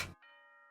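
An announcement chime from the Danganronpa video game sounds as a sustained bell-like tone ringing out cleanly after a brief burst of other noise, fading slowly.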